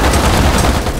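A brief, loud booming blast in the zombie video game Pandemic Express - Zombie Escape fills the moment, dense and rumbling, with no voices heard.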